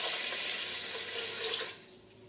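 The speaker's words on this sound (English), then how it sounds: "Now I'm going to add 3 cups of water." Three cups of water poured from a measuring cup into a slow cooker pot holding washed rice, a steady close splashing pour that cuts off near the end, leaving a faint trickle.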